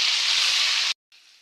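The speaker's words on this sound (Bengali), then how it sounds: "পেঁয়াজগুলো কিছুক্ষণ ভেজে বাদামি কালার করে নেব।" Onions frying in oil in a wok, a steady bright sizzle that cuts off abruptly, then resumes more quietly after a short silence.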